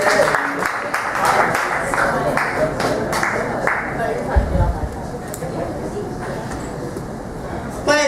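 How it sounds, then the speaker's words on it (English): A comedy-club audience claps for a comedian being brought on stage, with dense, continuous applause under an announcer's voice that thins out toward the end. "Please give a warm round of applause"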